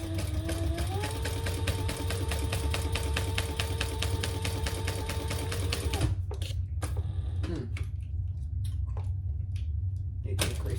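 Sewing machine running steadily as it stitches around all four sides of a fabric slip pocket for a crossbody bag, a fast, even mechanical chatter that stops about two thirds of the way through, followed by quieter handling clicks.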